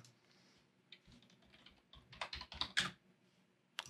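Fast, close clicking of computer keyboard keys while an email is written, soft and intermittent at first, then a burst of louder keystrokes near the end, with no talking.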